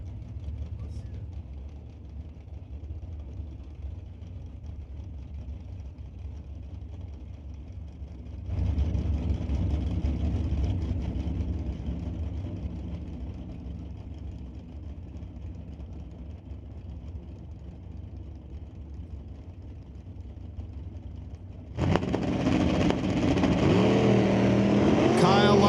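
Chevy drag race cars at a Mission Raceway NHRA open series event rumble down the track, a steady low engine roar swelling as they pass and growing louder near the end, with an announcer talking over it.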